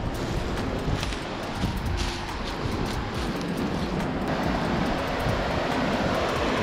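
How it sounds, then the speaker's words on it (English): Waterfall in the Catskill Mountains, heard up close as a steady, loud broadband rush of falling water that fills the whole clip without a break. "Look at that waterfall."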